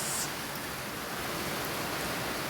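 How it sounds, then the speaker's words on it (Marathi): Heavy monsoon rain over farmland in Marathwada pouring down as a dense, unbroken roar of noise, loud and constant from start to finish. "फारच जोरात पाऊस आलेला आहे"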